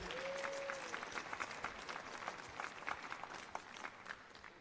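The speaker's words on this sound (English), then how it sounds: "Applause to this amazing gentleman." An audience claps steadily at a business leadership event in Bangkok, a dense, moderately quiet patter of applause with no talk over it.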